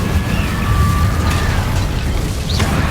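An Incendio fire spell blast from the Hogwarts Legacy video game: a sustained loud roaring whoosh of flame with crackling texture, plus brief whistling magical tones over the top.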